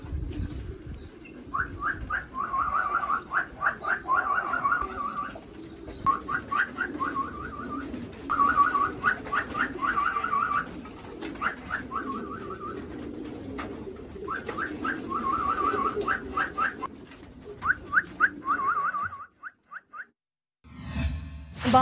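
Pigeons cooing in repeated soft, rolling phrases over a murmuring background, fairly close and steady for most of the stretch before a brief lull and a final burst.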